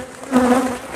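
Honey bees buzzing around hive frames during a honey harvest in dry desert Utah, a single close, steady drone that swells in the middle of the moment and hangs on without any talk.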